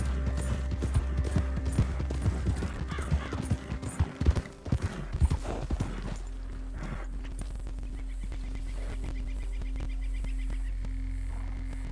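Horse hooves clip-clop in Red Dead Redemption 2, a rhythmic trot that fades after a few seconds into a steady low ambient hum with faint background sounds.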